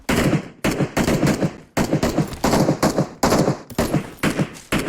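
Rapid bursts of gunfire from PUBG Mobile, loud and close, fired in repeated automatic volleys separated by brief gaps over several seconds, with no talking.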